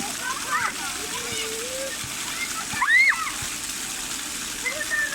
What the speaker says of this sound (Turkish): Tamam, şimdi yıka ellerini.